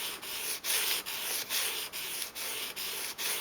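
A Gerber Paraframe knife blade drawn repeatedly across sandpaper, a steady close rasping scrape in even strokes with brief pauses about every half second, heard alone.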